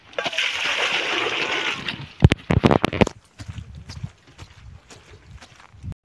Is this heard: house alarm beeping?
no